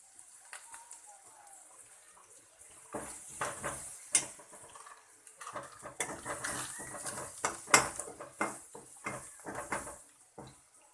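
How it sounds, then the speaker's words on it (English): Ginger garlic paste with spices fries in a pan while a utensil stirs and scrapes, giving irregular close clinks and scrapes over a faint sizzle. "We have to fry this until the raw smell of ginger garlic goes."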